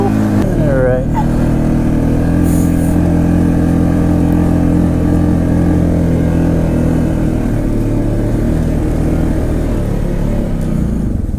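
Polaris Ace 570 off-road vehicle driving through snow, a loud, constant engine drone heard close from on board with a brief rev at the start, while someone speaks over it.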